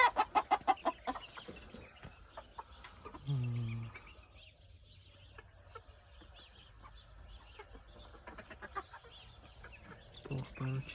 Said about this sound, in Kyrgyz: Япон тоогу окшойт.